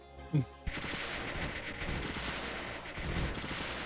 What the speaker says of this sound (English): And those launchers are absolutely decimating this.